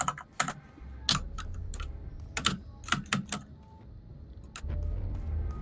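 Computer keyboard keys clatter in quick irregular bursts of clicks and taps while controls are being rebound in a game's settings menu, with a low hum rising toward the end.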